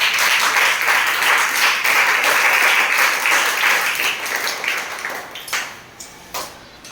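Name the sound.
classroom applause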